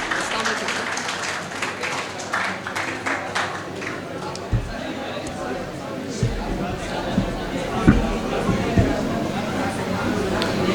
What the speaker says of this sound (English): Kindly give him a huge applause